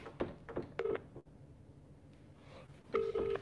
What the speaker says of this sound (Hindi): अब पता नहीं बेटा किसी का फोन आ रहा है